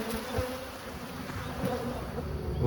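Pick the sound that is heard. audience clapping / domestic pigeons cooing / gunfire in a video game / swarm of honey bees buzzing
swarm of honey bees buzzing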